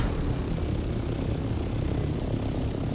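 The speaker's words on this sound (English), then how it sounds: "Can you hear the plane?" Steady droning engine of an airplane flying overhead in the video game Dune Awakening, a continuous broad rumble holding at an even level throughout, with no talk.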